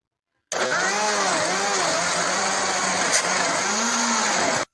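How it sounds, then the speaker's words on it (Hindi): A blender grinds tomatoes, onion, garlic cloves and water into a paste for pizza sauce. It runs loud and steady from start to finish, and its whirring pitch wavers as the contents churn. "अब इसको ग्राइंड कर लेंगे।"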